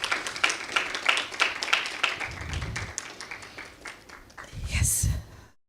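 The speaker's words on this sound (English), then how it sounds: "A round of applause," An audience at a graduate trainee graduation ceremony claps for a company CEO and co-founder as he steps forward, a moderate patter of hands mixed with a voice talking and a few low thumps.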